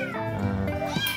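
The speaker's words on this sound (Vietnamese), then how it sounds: "anh thấy kia có một chú mèo bị sao ấy" A cat with a deformed leg lets out a single drawn-out, wavering meow close by, lasting about a second.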